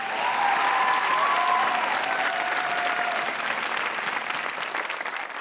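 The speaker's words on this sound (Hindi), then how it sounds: "बहुत आला, तालियां होनी चाहिए इस गाने में।" Studio audience applause on a Pakistani comedy talk show, a dense sustained wash of clapping from a large crowd that fades slightly toward the end, with no talk over it.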